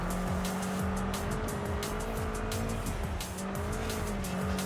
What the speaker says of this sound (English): Yeah, a bit too much of a skid there